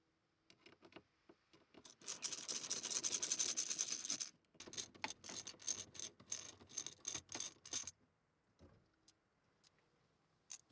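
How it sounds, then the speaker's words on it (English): Screws being undone from a silver metal plate in a Nissan Micra K11, heard as quiet, close ratcheting clicks coming in bursts with brief pauses between them, the handling soft and near. "Simply undo these 4 screws to do so."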